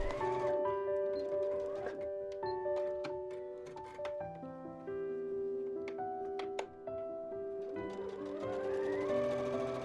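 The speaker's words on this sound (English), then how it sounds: "So you're just going to keep sewing seams until essentially all of your edges and folds are sewn down onto the actual t-shirt." A sewing machine stitching seams on a t-shirt, running in short bursts with a steady whirring motor and clicking, with a few light handling ticks, set against background music.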